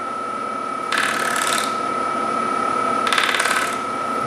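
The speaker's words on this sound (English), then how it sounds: "sometimes you can take your scraper and come in very lightly, ever so lightly" A wood scraper lightly cuts a live-edge maple bowl on a lathe, making two short, hissing scraping bursts over a steady, whining motor hum.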